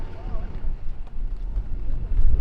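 Strong wind buffets an outdoor microphone at an off-road spot, giving a rumbling, gusting low roar that swells toward the end, with a voice faintly underneath.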